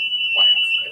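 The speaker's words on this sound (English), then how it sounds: "the buzzer will be live again to get that second boost" A quiz game buzzer sounds a steady, loud electronic tone, with a voice briefly heard underneath.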